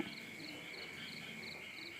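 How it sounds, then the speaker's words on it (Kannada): Frogs call in a steady rainy-night chorus, a faint, distant, rhythmic pulsing trill repeating about three times per second over a constant high drone. "ಕಪ್ಪೆಗಳು ಕರ ಕರ ಕರ ಕರ ಕರ ಅಂತ"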